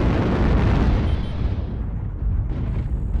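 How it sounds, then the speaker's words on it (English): Missile impacts in MechWarrior Online land as a heavy, sustained rumble of explosions. The roar is loud and close, thinning slightly toward the end, with no talk. "Warning incoming missile"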